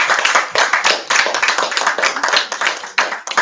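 A bookstore audience claps for a visiting author, a short burst of close, distinct handclaps with an uneven, irregular patter from a small crowd.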